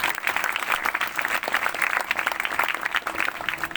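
A church congregation at a Christian meeting in Chak 7, Faisalabad, claps loudly and steadily throughout, a dense, continuous wash of many hands with no pauses.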